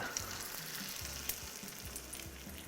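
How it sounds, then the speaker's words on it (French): A potato galette fries in hot oil with a steady close sizzle and crackle, faint and alone with no voices, and a few soft clicks sound throughout. "On veut sentir que ça frit."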